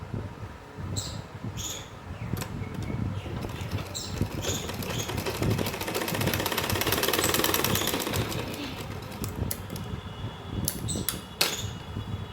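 A sewing machine stitches fabric while elastic and a pocket are sewn onto palazzo pants, a dense, steady mechanical whir that runs without pause, swelling slightly in the middle, with small clicks and handling noises on top.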